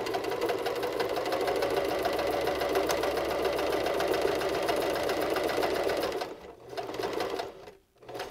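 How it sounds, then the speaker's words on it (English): Sewing machine stitching all the way around a pleated surgical face mask, a steady close whir running unbroken for about six seconds, then stopping and restarting in two short bursts. "we're going to sew completely around the face mask, and we'll sew down those pleats that we made"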